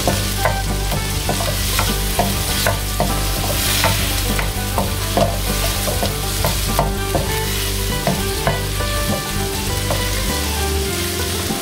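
Sliced onions hit hot oil in a frying pan, a steady loud sizzle with repeated scraping stirring strokes of a spatula, alone without talk.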